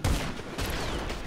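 Video-game gunfire from an aircraft combat game with jets, a short burst of rapid shots starting loud and close, followed by steadier sustained firing with no talk.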